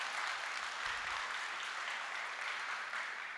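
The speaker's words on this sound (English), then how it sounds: "We're going to practice clapping a lot" An audience claps together at a talks event, a dense, even wash of applause held steadily at moderate distance for a few seconds.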